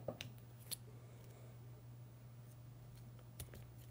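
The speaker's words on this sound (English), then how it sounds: "all the rest of the strands, I'm going to cut really close" Scissors snip embroidery floss strands close on a friendship bracelet, a few faint, sharp clicks spaced over a few seconds against a quiet hum.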